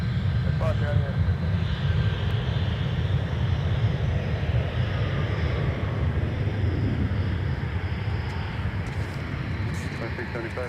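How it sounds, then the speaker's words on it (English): A United Airbus A320 arrives at Minneapolis airport, its engines making a steady, loud, broad roar with wind noise throughout, heard from a distance with no pause over the whole stretch. "We'll have another look at our United arrival from Denver, Colorado with that A320, wearing the gorgeous Evo blue livery."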